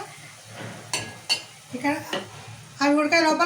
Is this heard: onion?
yes